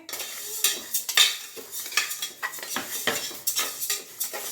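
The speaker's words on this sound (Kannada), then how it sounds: "ಕುಕ್ಕರಿಗೆ ಹೆಸರುಬೇಳೆನ ಹಾಕಿದ್ದೀನಿ, ನೋಡ್ಬೋದು. ಚೆನ್ನಾಗಿ ಹುರ್ಕೊಂಬಿಡೋಣ." Moong dal being dry-roasted in a pressure cooker on a stove, with irregular scraping and clinking strokes of a ladle against the metal pot and a faint sizzle between strokes, close and alone.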